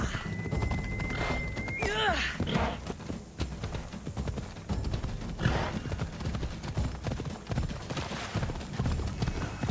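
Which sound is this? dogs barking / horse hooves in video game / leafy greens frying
horse hooves in video game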